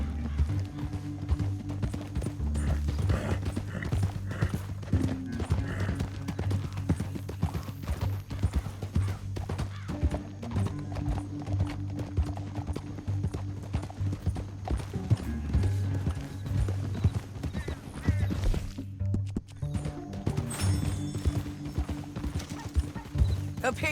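Horses gallop across open country in Red Dead Redemption 2, a steady rapid drumming of hooves with an occasional whinny, loud and continuous, with orchestral music and brief in-game voices underneath.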